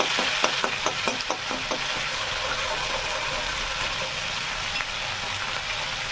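Fenugreek seeds with garlic and ginger paste fry in a pan, a constant bright sizzle with a quick run of sharp spoon taps against the metal early on, then continuous frying alone.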